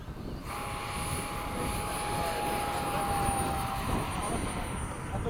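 An FMS 70mm F/A-18 model jet takes off at a flying field, its ducted-fan whine rising into a steady, loud whoosh that holds for several seconds, with a thin high tone running through it.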